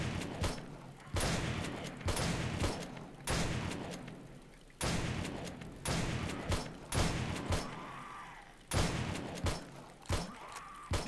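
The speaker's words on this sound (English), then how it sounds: "Shooting him in the butthole." Repeated bursts of gunfire from the survival zombie game 7 Days to Die, loud and close, firing in irregular volleys about every second or so with brief gaps, no talk over it.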